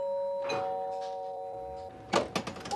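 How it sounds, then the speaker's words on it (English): A two-tone doorbell chimes at a front door, ringing tones sustained for a couple of seconds before a few dull knocks and thumps follow. "The doorbell rang"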